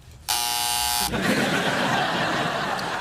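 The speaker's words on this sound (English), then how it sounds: "You're enjoying that buzzer a little too much." A game show wrong-answer buzzer blares once, loud and sustained for just under a second, then cuts off into a busy studio background with faint voices.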